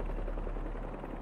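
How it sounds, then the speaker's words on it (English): Low, pulsing whir of helicopter rotor blades in the Marvel's Spider-Man 2 video game, a steady close drone with a rhythmic throb running the whole stretch, no voices. "Something like a helicopter's blades."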